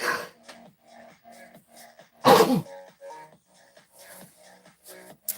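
A single sharp sneeze bursts out loud and close in a quiet room, preceded and followed by faint shuffling and small handling noises.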